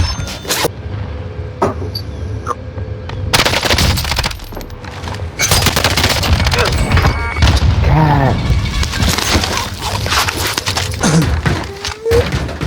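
Gunfire in a video game shooter, with sharp bursts of shots in rapid clusters, loud and close, scattered across the clip with short pauses between volleys and a few faint voices underneath.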